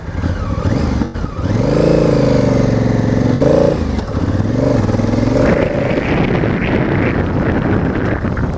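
Honda Africa Twin motorcycle engine running steadily with a low throbbing tone during adventure riding training, loud and close, with wind buffeting the microphone and a slight rise in pitch partway through.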